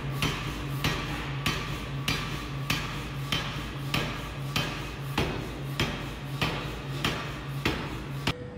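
A massive glowing steel ingot is forged and shaped, with loud, regular heavy hammer strikes landing roughly every 0.6 seconds over a constant industrial hum.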